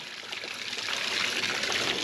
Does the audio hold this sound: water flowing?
yes